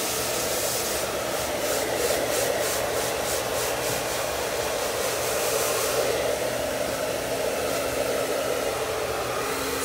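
A hair dryer runs steadily and loudly for the whole stretch while hair is blow-dried and styled into a voluminous pompadour, with a constant airflow roar and no talking.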